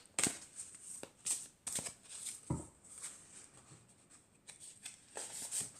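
Oracle cards being shuffled by hand, a run of soft riffling bursts and papery flicks in an irregular rhythm, close and quiet, with no talking.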